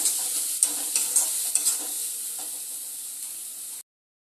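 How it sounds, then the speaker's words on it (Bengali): Spice paste sautés in a pan with a bright, steady sizzle, broken by several close scraping stirs of a spatula, before cutting off abruptly; no talking. "এবার মশলাটা এর সঙ্গে খুব সুন্দরভাবে কষিয়ে নেব, যাতে মশলা থেকে একটা কাঁচা গন্ধ না আসে।"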